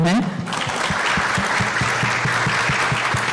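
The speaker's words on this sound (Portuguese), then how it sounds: "uma salva de palmas para nós" Loud, dense applause from a crowd at a library talk fills the clip, with a voice speaking Portuguese over the clapping at the start.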